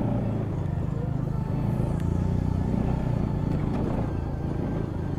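A Bajaj Pulsar NS200 motorcycle is ridden on the road, its engine a steady low rumble and drone close by, with brief faint clatter and no talk.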